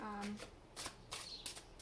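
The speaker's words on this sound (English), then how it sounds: "Let me just shuffle this up a little bit more." Tarot cards are shuffled in several quick riffling bursts, close and crisp, with short gaps between them.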